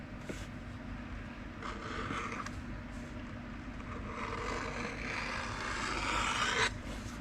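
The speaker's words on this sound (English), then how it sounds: "Take our little edging tool here." A small leather edging tool scraping along the edge of a leather Bowie knife sheath, chamfering it with a steady, close, continuous rasping that swells toward the end.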